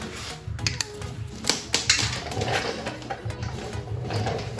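A torque wrench clicks as it tightens the oil pan bolts on a donor engine for a Factory Five Cobra build, with a few sharp metallic clicks and small rattles in a quiet garage.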